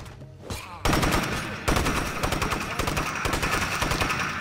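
Rapid bursts of automatic gunfire from enemies in State of Decay 2, loud and close, with a brief pause before sustained rattling volleys that continue to the end.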